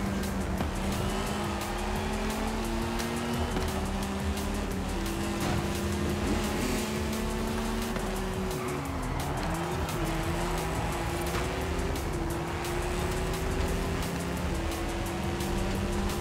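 Car engine revving with harmonic tones rising and falling, plus squealing tires during hard driving in the racing game Forza Horizon 5. The sound is steady, loud and close, with no talking.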